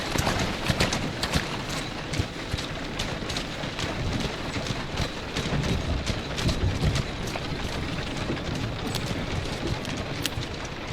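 Horse hooves clip-clop steadily on a street amid continuous rain ambience in a Victorian London setting, with faint wheel rumble beneath.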